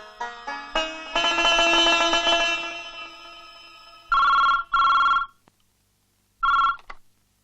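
A telephone rings in short electronic bursts, three loud trills separated by pauses, following a brief melodic ringtone passage at the start.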